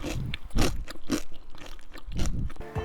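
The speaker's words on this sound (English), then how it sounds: "Did you hear the satisfying crunch?" Close, crisp crunching bites into deep-fried tofu puffs stuffed with shrimp paste, followed by chewing, a few distinct crackly bursts spread over a few seconds with no talking.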